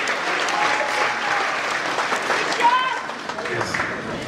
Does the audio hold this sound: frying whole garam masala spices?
no